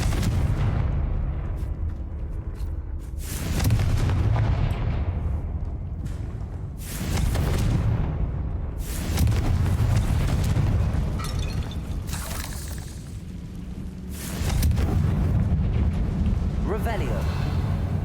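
Loud fiery explosions from the Confringo spell in Hogwarts Legacy, a series of heavy booming blasts with rumbling tails that repeat every few seconds and dominate the mix, with a voice speaking in the game.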